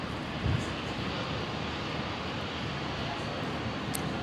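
A Qantas airliner arriving from Sydney lands on runway 01 right at Brisbane airport, giving a steady broad roar of jet engines at a distance, constant throughout with no talking.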